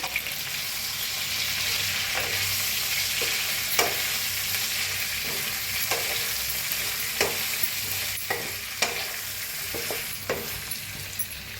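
Ridge gourd vegetable fries in a pan with a continuous bright sizzle, while a spoon stirs and scrapes in irregular taps and clacks, close up and without voices.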